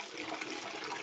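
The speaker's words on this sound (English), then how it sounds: "Body Bag Clark does the flushing around here" A toilet flushes with a steady, close rush of water that fills the whole short moment without letting up.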